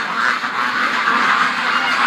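Ducks and geese being rushed at the end of the day give off a dense, steady flock chatter of quacks and honks. It runs continuous and fairly loud throughout, with no talk.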